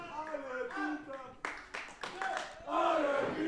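Wrestling crowd at a Rixe match claps and cheers for a groggy Peter Fischer, with bursts of rhythmic clapping and shouts rising toward the end, heard alongside voices.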